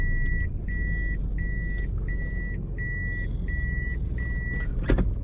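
Steady, evenly spaced reversing beeps sound from a Toyota car just shifted into reverse during a CVT calibration check, seven or so clear tones over a constant engine hum, close by, with a brief click near the end.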